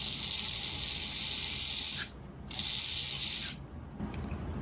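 The small electric motor of a worn, grease-caked Baldwin switcher model locomotive runs with a bright, steady whir, cuts out briefly, runs again, then stops into quieter handling noise.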